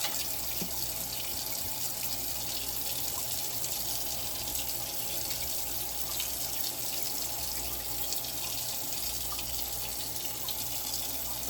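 Cold water pours steadily from a tap onto dandelions being rinsed in a sink, a continuous close splashing hiss with no break.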